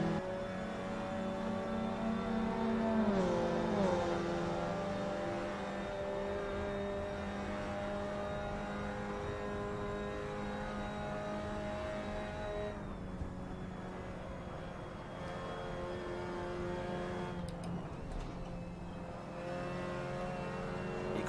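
Mazda RX-5 Cup race cars lap a racing track in Assetto Corsa. A steady, tonal engine whine rises and falls through gear changes and sustained revving, with brief dips where the throttle lifts.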